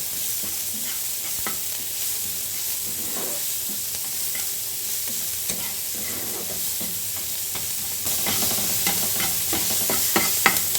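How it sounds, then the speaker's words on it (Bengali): Chopped onions frying in oil, a continuous bright sizzle with scattered scrapes and taps of a spoon stirring them, getting louder and busier toward the end, close with no talking. "পেঁয়াজগুলো দিয়ে ভালো করে নাড়াচাড়া করে ভেজে নিতে হবে"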